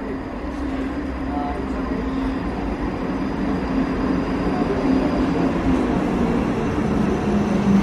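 A passenger train bound for Edinburgh, heard from inside near Dumbarton, rumbles and hums steadily and continuously throughout.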